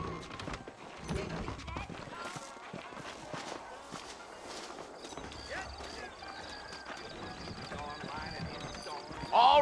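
Horses clip-clopping at a walk and trot in the Red Dead Redemption western game, steady hoof rhythm under background music and spoken dialogue.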